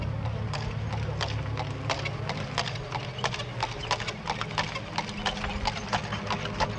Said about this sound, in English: The horse-drawn cart is a common enough sight in Poland